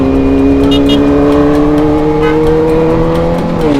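A car engine revs hard with a loud, steady drone whose pitch climbs slowly and then settles, heard close and alone with no talking.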